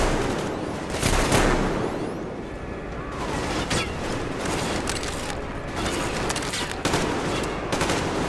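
Sustained Gatling gun fire from the video game Metro Exodus, with dense rattling bursts and loud sharp shots repeating throughout, close and intense, with some muffled game noise between volleys.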